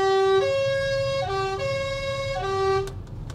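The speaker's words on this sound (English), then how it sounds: "Also half sounds like an ambulance" An ambulance siren wails in a clear two-tone pattern, alternating high and low notes, heard in traffic from inside a Volvo XC40 Recharge electric car, with road rumble underneath.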